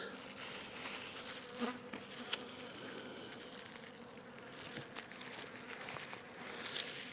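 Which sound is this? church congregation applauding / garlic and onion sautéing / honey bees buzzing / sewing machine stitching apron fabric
honey bees buzzing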